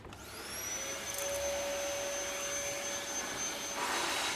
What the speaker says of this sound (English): there is a possibility of a vacuum cleaner holding somebody up against the ceiling